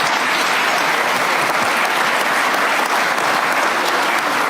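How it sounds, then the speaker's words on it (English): Dense, steady applause fills a hall as an audience claps for a panel at a security policy event, sustained at full strength throughout without any talking. "Let's give a round of applause to a great panel."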